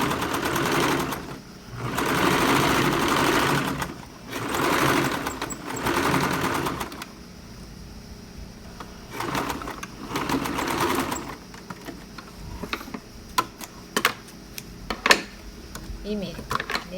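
Sewing machine stitching a shirt collar in bursts of a second or two, with short pauses and some handling clicks between runs, heard close.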